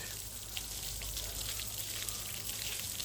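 Water gushes from a broken pipe on a water tank in a steady, faint, hissing splash with no pauses and no voices.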